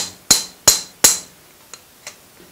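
A metal craftsman hammers a metal workpiece, three sharp ringing strikes in quick succession followed by two fainter taps, close and loud in a quiet room.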